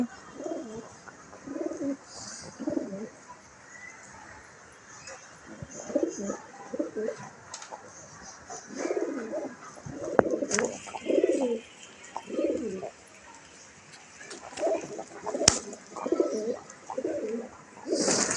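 Pet pigeons kept in Dhaka during the rainy season coo in repeated soft, throaty bursts, several birds close by, with faint chirps and light background noise between calls.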